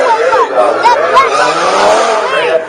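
A black racing car and a white racing car skid, throwing out loud, continuous tire squeals with warbling, sliding pitch that runs for nearly three seconds.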